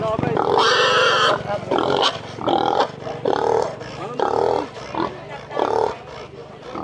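Large pigs of about 100 kilos, kept for a wedding cook-out in Laurel, Batangas, grunt and squeal in repeated loud bursts, close by, while people talk over them.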